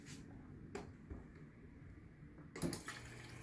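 Water runs from a refrigerator's built-in dispenser in a steady, close stream for a couple of seconds, followed by a short clunk and rattle.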